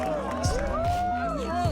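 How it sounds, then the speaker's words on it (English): A roaring crowd cheers at a surf contest's men's final between Yago and Italo, a steady, loud wash of whoops and shouts that runs the whole time beneath an excited commentator's voice. "Listen to this crowd."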